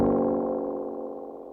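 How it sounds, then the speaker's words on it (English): A resonant synthesizer tone with a rich, buzzy stack of overtones, sustaining and slowly fading away on its own with no voices. "Beautiful resonance on the filter."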